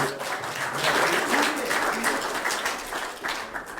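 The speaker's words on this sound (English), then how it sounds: "Give them a round of applause." Audience at a Douglas County Republican candidate forum applauds in a steady, fairly loud burst of clapping that continues throughout.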